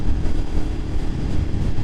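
Motorcycle running through a new aftermarket exhaust silencer, a steady low rumble held at constant throttle while cruising, continuous and fairly loud with no voices.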